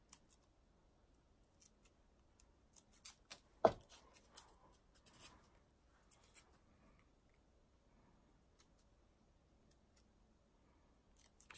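Quiet, sparse snips of fine detail scissors cutting crepe paper, with one sharper cut standing out among small clicks and rustles in an otherwise near-silent room.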